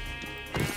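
A goat in the video game Minecraft lets out a short bleat as it dies, a brief nasal cry over faint background game noise.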